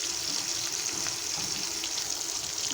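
A spice paste of green chilli, poppy seed, ginger and cumin fries with pointed gourd (potol) in oil, giving a continuous soft sizzle and crackle with faint stirring, close and even, and no voices.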